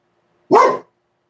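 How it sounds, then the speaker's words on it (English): A single sharp dog bark, close and loud, alone in an otherwise quiet indoor room. "What are you barking at?"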